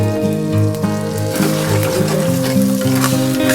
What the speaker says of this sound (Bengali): এখন হাই ফ্লেম করে দিয়েছি, দিয়ে ডিমটা ভালো করে ভেজে তার মধ্যে আবারও একবার রাইসটাকে নাড়াঘাটা করে নেবো